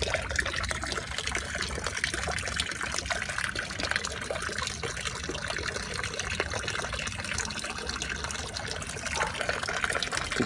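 Water from a pump pours steadily into a small garden pond, a continuous splashing trickle heard close and fairly quiet throughout, with no voices.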